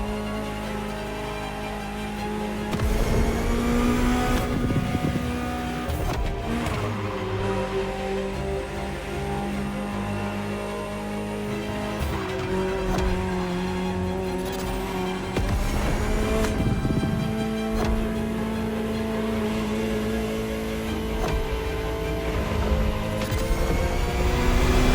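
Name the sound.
Ferrari car engine revving in video game The Crew Motorfest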